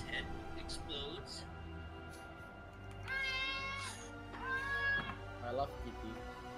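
A pet cat meows several times indoors, drawn-out tonal cries rising and falling in clusters, close and clear, with a person talking between the calls over a faint background hum.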